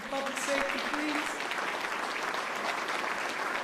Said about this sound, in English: Give that a round of applause for public safety, please.